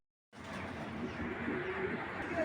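Belgian racing pigeons coo softly but steadily in a loft, their low, continuous murmuring rising after a brief silence at the start and holding across the clip.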